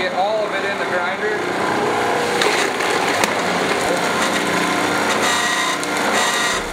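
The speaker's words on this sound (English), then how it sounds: "Take this sample here and make sure to get all of it in the grinder." Whirring, rattling laboratory grinder working through dried soil samples in a soil analysis lab, a continuous busy mechanical noise with a few sharp clicks, while a voice speaks over it.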